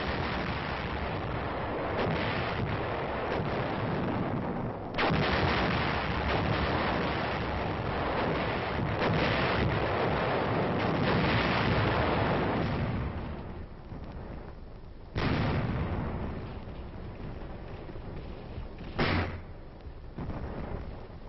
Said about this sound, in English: 3rd Division artillery moved in to plug the gaps with firepower.